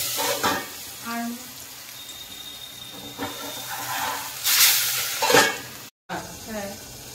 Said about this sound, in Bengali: এবার আমাদের মাছের তেলটা গরম হয়ে গেছে। এবার আমরা মাছটা ছেড়ে দেব।